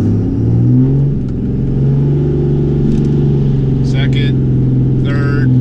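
A 2017 Ram pickup truck with 4.56 gears revs and climbs steadily through second, third and fourth gear to 50 mph, droning loudly and continuously from inside the cab, with brief chirps near the end.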